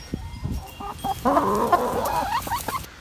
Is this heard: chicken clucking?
yes